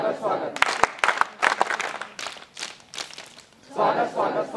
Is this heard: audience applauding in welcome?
yes